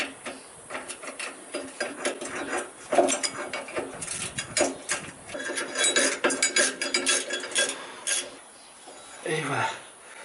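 A ratchet tightens bolts during an assembly job, clicking in quick irregular bursts close by, with pauses between strokes and a voice speaking at times.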